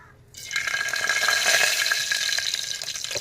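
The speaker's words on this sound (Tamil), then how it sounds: "இப்போ வந்து கடுகு போட்டுக்கலாம் ஃப்ரெண்ட்ஸ்" Mustard seeds hit hot oil in a pan, setting off a sudden close, bright sizzle that holds steady with fine crackling throughout.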